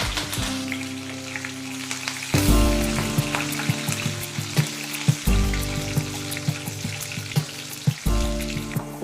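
Curry leaves crackle and sizzle in hot oil with garlic during tempering for tomato pickle, loud close frying with sharp pops and surges of hissing as the leaves hit the pan.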